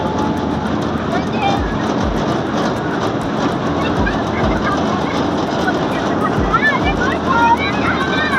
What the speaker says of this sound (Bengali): তো চেপে পড়লাম টয় ট্রেনে